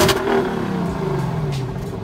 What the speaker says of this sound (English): I'm gonna play the exhaust note from the LC.